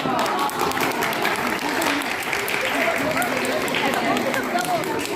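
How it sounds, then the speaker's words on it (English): Audience clapping at a Ramadan iftar event in a primary school hall, a continuous dense patter of many hands at steady volume with voices murmuring underneath. "Claps for them."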